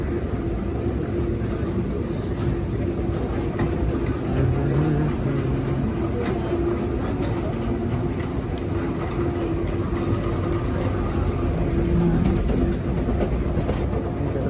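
An airport Skytrain people mover rumbles steadily throughout, a continuous low rolling train noise with faint clatter, heard from inside or close by with no talk over it.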